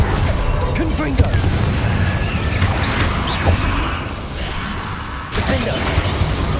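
A fiery Confringo spell blast erupts amid dense combat in Hogwarts Legacy, a loud booming burst layered over constant battle noise and a clash of smaller impacts, with voices heard in the mix.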